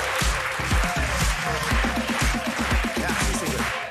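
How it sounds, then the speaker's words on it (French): An audience applauds Ségolène Royal in a steady, dense wash of clapping with heavy low thumps, sustained at a constant level for the whole stretch and uninterrupted by voices. "Applaudissements pour Ségolène Royal."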